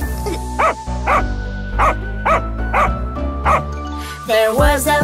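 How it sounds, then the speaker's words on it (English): Cartoon-style dog barks and yips punctuate a children's nursery rhyme about a farmer's dog, several short barks in a loose rhythm over a sung melody and music. "There was a farmer had a dog and Bingo was his name"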